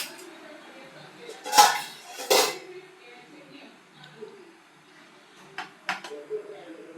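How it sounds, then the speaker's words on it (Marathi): A pressure cooker lid being fitted, with two sharp metallic clanks early on and a few lighter clinks later, close and fairly quiet. "आता मी कुकर झाकण लावत आहे"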